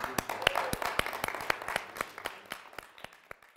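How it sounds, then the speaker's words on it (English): An audience claps at a motivational self-improvement seminar, with distinct sharp claps from a smallish group, loud at first and gradually thinning and fading toward the end. "Let's clap for all of us who are here."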